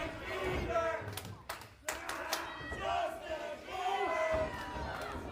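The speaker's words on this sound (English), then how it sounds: "You hear the crowd antagonizing Baylor, but he has none of it." A loud crowd shouting and jeering in a large space, voices rising and falling continuously with a few sharp thuds.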